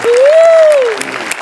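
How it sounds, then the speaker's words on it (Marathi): Studio audience on a Marathi TV comedy show bursts into steady clapping for about a second, with a bright whistle-like tone rising and falling over it before the applause thins out. "श्यामेसाठी एकदा टाळ्या वाजवल्या पाहिजे"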